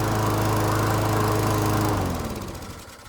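A Canadiana self-propelled lawn mower engine runs with a loud, steady buzzing drone, then winds down and fades over its last second; no one speaks.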